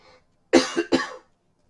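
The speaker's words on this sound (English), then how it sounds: "Sorry, I had to cough." A couple of sharp, close coughs in quick succession, loud against an otherwise quiet background.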